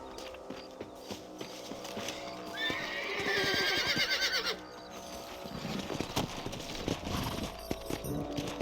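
Horses neigh and whinny loudly over steady clip-clopping hooves, with game music and ambient effects around them, in Red Dead Redemption.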